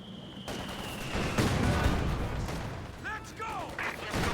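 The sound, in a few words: 82mm mortar firing in Company of Heroes 2 video game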